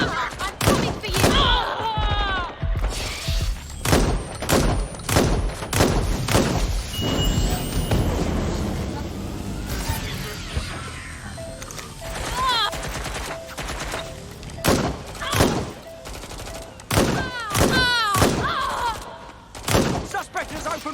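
Gunfire from the video game Watch Dogs Legion: loud bursts of automatic fire and single shots crack close by across the whole stretch, with thuds, shattering debris and voices talking between the volleys.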